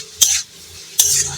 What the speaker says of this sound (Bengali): উচ্ছা ভাজা একদিকে হতে থাক,